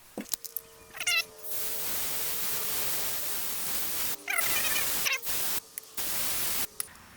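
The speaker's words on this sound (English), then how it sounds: "We're going to get a little bit of carburetor cleaner and clean up the outside of it." Carburetor cleaner sprays onto the carburetor of a Honda push mower in several hissing bursts of varying length, separated by short pauses and light clicks.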